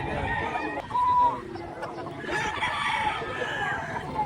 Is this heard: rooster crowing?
yes